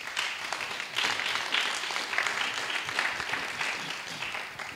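A congregation applauds the Lord in a church gathering, steady dense clapping from many hands that holds for several seconds, moderately loud and heard from within the room.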